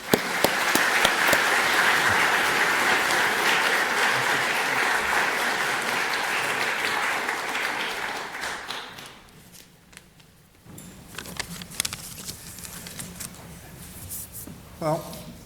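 Audience applause for a professor stepping to the podium at an inaugural university lecture, a dense steady clapping from a large hall that swells, then thins out and fades to a few scattered claps and shuffling.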